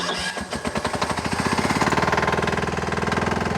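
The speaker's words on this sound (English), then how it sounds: "when you turn the key off while the machine's running, it actually doesn't turn off the machine" A Kubota KC70 tracked dumper engine starting and then running close by, a loud rapid rhythmic diesel clatter that settles into a steady chugging idle.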